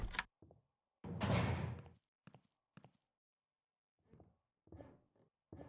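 A cage door opening in the game I Gnarled Hag: a metallic clank, then a long grinding scrape of the barred door, followed by several short isolated clunks and footstep-like knocks in otherwise silent gaps.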